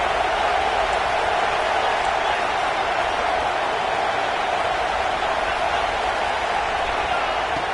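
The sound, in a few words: football stadium crowd cheering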